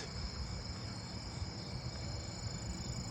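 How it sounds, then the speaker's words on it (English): A Japanese burrowing cricket chirps at night on a neighbourhood roadside, a steady faint high trill over a low rumble of background noise, with no voices. "I hear a Japanese burrowing cricket."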